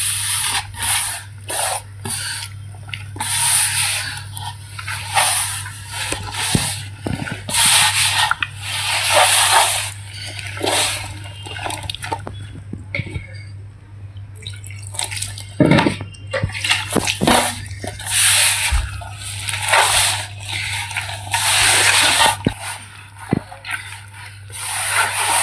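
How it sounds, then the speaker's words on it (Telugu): Samosa dough is kneaded by hand in a bowl as water is added little by little, giving repeated close rubbing, squishing and slapping sounds in an irregular rhythm, with a steady low hum underneath and no talk. "ఇలాగా చూసుకొని కొంచెం కొంచెంగా నీళ్ళు వేసుకొని కలిపేసుకున్నాం."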